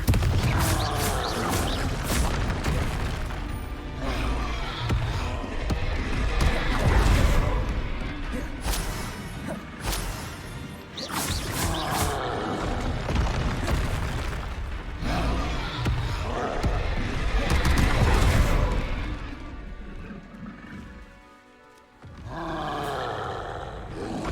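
Confringo and Expelliarmus spell blasts in the video game Hogwarts Legacy: loud, dense bursts, crashes and roaring impacts following one another almost without pause, with a brief lull near the end.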